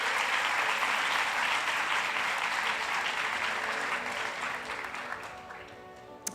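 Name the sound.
congregation applauding loudly in church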